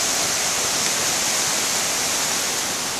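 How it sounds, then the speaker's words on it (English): A river in spate after heavy rain near Benlister Falls, Lamlash, roars as a loud, constant rush of broadband water noise with no breaks. "that's just the sheer volume of water in this river"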